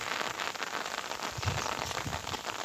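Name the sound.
rain falling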